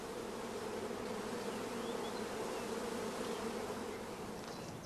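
Honeybees buzz around a hive holding a shook swarm, a steady, even drone of many insects at moderate distance, unbroken and alone.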